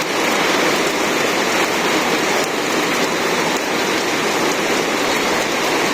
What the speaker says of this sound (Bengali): আজকে আবার ধরে বৃষ্টি হয়েছে, ঝড়িও বানছে।